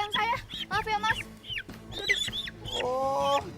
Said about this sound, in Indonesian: ini ayam saya mas, saya mau ambil ayam saya